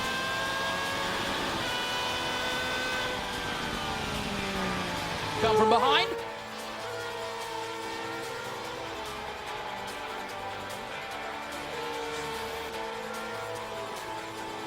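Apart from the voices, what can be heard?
Superleague Formula race car going through the gears at Jerez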